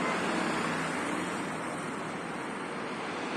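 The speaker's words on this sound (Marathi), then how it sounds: "रात्री 12 वाजता पण एवढीच ट्रॅफिक." Night traffic on a Pune highway makes a continuous, moderately distant roadway rumble and hiss, steady throughout with no distinct single vehicle standing out.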